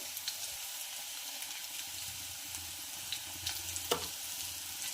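Curry leaves, salt and turmeric fry in hot oil for a crisp poha chivda, giving a faint, even sizzle with soft stirring ticks and no voices.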